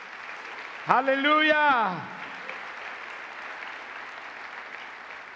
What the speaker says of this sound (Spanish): Dele el aplauso fuerte